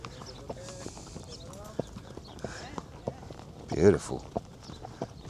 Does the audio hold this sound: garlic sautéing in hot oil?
no